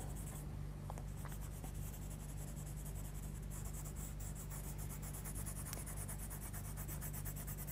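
Soft continuous scratching of a Coloursoft coloured pencil shading across black sketch paper, a steady faint rubbing texture over low background hum with no talking.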